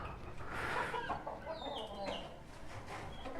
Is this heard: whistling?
no